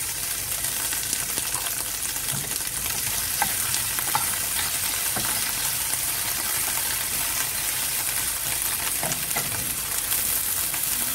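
Green peas and French beans sautéing with capsicum in a pan for hara bhara kabab, a steady close sizzle with scattered stirring scrapes running the whole time, no talk.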